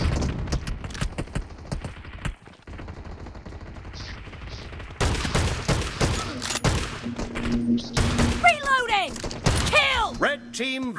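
Shotgun fire in a team-based multiplayer shooter match, repeated loud close blasts scattered through the clip among other weapon fire and game effects, with voices talking over it.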